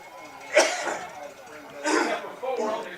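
Coughing during a radio broadcast of a North Carolina high school football game: two or three loud, harsh bursts, each followed by quieter breathy noise.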